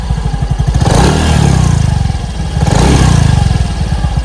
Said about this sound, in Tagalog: Yung tunog naman ng kanyang muffler naka ka-RS8, ito yung kanyang tunog